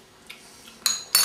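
A utensil clinks and scrapes against a pot of thick beer cheeseburger soup, two bright metallic scrapes after a faint tap, close and alone.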